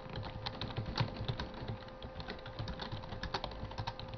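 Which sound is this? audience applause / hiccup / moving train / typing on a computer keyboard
typing on a computer keyboard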